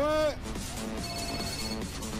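A telephone rings in the game Planetside 2, a short bright electronic trill at the start that cuts off quickly, followed by someone talking over low background game noise.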